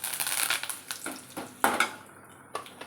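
Curry leaves drop into hot oil with toasted urad dal while tempering for an okra vatha kuzhambu, giving sharp crackling bursts and spattering sizzle with a few utensil clinks, close and fairly quiet.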